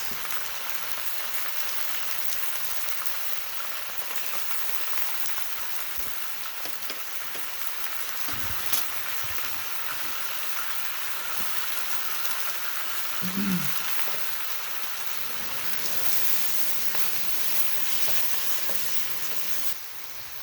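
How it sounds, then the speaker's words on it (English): Pork, bok choy and scallions with a splash of Shaoxing wine stir-fry in a wok with rice cakes. A soft, continuous sizzle and hiss runs throughout, broken by a couple of brief clinks and scrapes, and no one speaks. "we'll add in the bok choy, scallions, and 1 tablespoon of Shaoxing wine. And I'll cook that for about 30 seconds."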